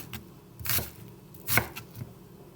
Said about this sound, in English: This part you can chop up smaller on the angle.